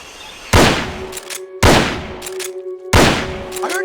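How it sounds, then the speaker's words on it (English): Three sharp, loud gunshots go off in Metal Gear Solid: Peace Walker, each with a booming decay and a ringing tail, spaced about a second apart. "I heard gunfire!"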